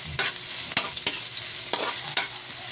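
Ginger sautéing in a hot pan for chicken sinigang gives a steady, loud, close hiss, broken by a few brief scraping stirs, with no voices.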